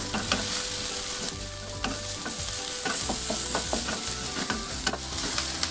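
Green chilies, large red chilies and dried chilies are stir-fried in a pan for a bean sprout and egg dish, a constant sizzle broken by frequent close scraping and clattering stirs.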